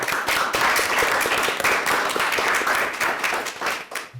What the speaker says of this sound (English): I'll give you applause for your work